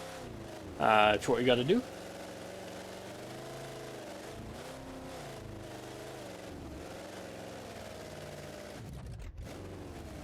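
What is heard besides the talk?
engine of a monster truck bogging down at low RPM, BeamNG.drive video game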